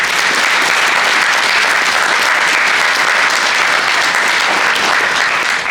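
Sustained applause from a crowd at a union event in a hotel, a dense, even roar of clapping that holds steady throughout with no voices over it.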